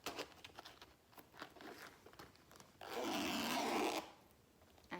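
A zipper is drawn along the compartment of a Chanel Jumbo handbag, a quiet close rasp lasting about a second after some soft crinkling handling of the bag.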